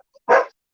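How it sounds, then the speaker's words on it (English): A single short, loud dog bark close by in a house with several dogs, preceded and followed by near silence. "the dogs are going a little wacko right now"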